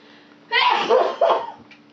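A single close, loud sneeze in two bursts, a sharp intake then an explosive release, standing alone against near silence.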